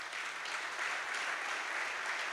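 An audience at a Pisa celebration for the 80th anniversary of the 46th Air Brigade claps in steady, dense applause, continuous and fairly loud with no voices over it.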